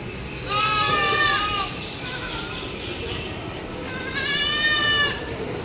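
Two wavering goat bleats, close and fairly loud, separated by a few seconds of noisy outdoor background at the Sunday market in Rajkot.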